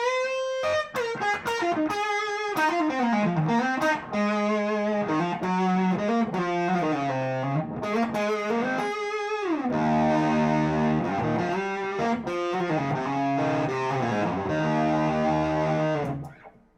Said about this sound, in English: if you want to add a little bit more gain to what's going on there, you can slam the front end with the EP booster